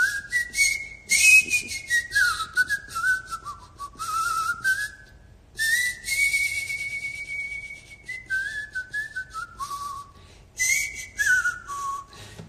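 A person whistling through their teeth, a clear bright melodic whistle with gliding, sliding phrases and short pauses, close and alone without any talking.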